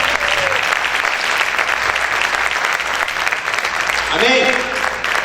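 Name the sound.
loud applause in a church service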